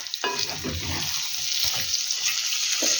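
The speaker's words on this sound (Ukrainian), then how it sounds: "І це все разом перемішаю і пересмажу, щоб воно теж засмажилося." Carrot and onion with a bay leaf frying in a pan, a steady bright sizzle with a stir at the start and soft stirring scrapes.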